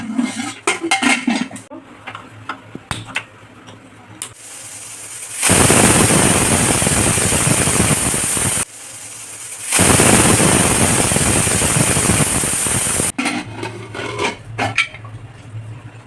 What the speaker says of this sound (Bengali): এটা সিদ্ধ করে নেব দুটো সিটি দিয়ে